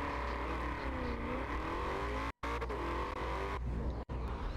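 A Mosler Corvette kit car races in Forza Horizon 4, its engine droning steadily at high revs with shifting pitch, broken by two abrupt cuts to silence.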